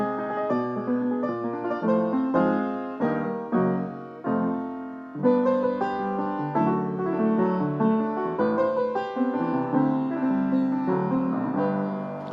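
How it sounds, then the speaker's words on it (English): A real acoustic Disklavier piano plays a flowing passage of chords and melody, full and resonant with steady rhythm and sustained tones throughout, close and with no voices. "now the only sound you hear is from my acoustic piano."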